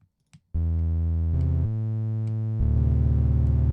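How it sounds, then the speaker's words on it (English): Plain synthesizer saw-wave tone used as sub bass, held in steady sustained notes that step between a few pitches, loud and alone after a couple of faint clicks. "Just a really simple saw wave."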